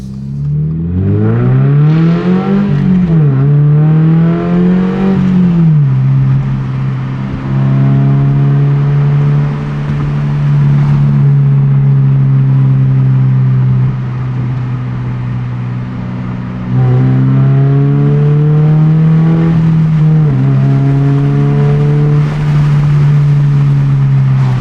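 Tomei Expreme Ti titanium exhaust on a GR86/BRZ revving repeatedly, loud and close, with rising and falling engine pitch over a steady idle drone and faint crackling pops between revs.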